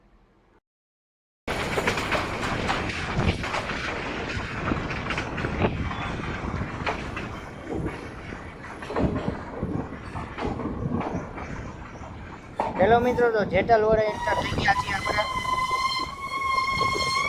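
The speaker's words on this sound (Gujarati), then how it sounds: "જેટલ વડથી ટ્રેન ડિપાર્ચર થઈ ગયું છે" A metre gauge train from Junagadh to Chalala rumbles and rattles along steadily while someone talks over it, and a tonal horn sounds near the end.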